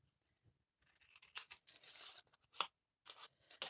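Scissors snip through card in a kerchief card kit, heard as a run of short, crisp cuts and rustles, close and quiet, with brief gaps between the strokes.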